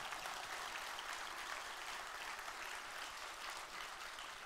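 Sustained audience applause at a fuel-alternatives summit honoring a chemistry professor, a dense, steady roar of many hands clapping throughout with no speech.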